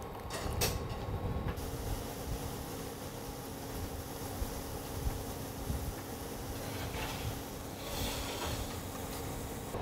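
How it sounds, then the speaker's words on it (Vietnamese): Chili peppers frying in hot oil after garlic, giving a constant dense sizzling hiss at moderate level, with a brief louder crackle near the start and no voices. "Mình cũng tiến hành chiên qua ớt để cho nó bớt hăng nhé."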